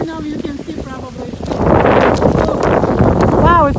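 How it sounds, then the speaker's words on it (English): Strong gusting wind outdoors beside a backyard koi pond in Florida, a broad roaring rush that builds sharply halfway through and holds loud to the end, with a person talking faintly before the gust picks up. "Wow, it's so windy."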